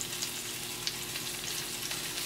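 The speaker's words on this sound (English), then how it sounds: "I know you guys hear it sizzling." Food sizzles in a pot while a ribeye steak is cooked, giving a continuous, even hiss of frying with small crackles, moderately close and heard alone without talk.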